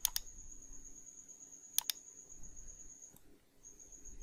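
Sharp computer mouse clicks in Photoshop, a quick double click at the start and another pair near two seconds, with a faint steady high tone in the quiet room, no talk.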